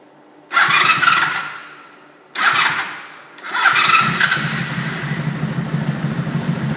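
A hot 1998 Honda Magna VF750C motorcycle engine cranks and catches in short bursts, cutting out twice before firing up and settling into a loud, steady idle close by.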